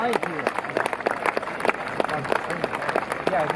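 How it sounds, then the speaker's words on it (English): Crowd applause at the IWK 250 Pro Stock Tour race at Riverside Speedway, a steady wash of clapping mixed with cheering voices from a large audience throughout. "Round of applause."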